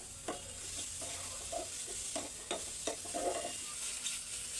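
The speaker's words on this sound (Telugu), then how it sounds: "టమాటా కూడా ఇలా పెద్ద పీస్ లాగా కట్ చేసుకొని వేయించుకుందాం" Large tomato pieces and a spoonful of cumin seeds fry in a pan with a soft, steady sizzle, broken by repeated scraping stirs of a spatula at close range.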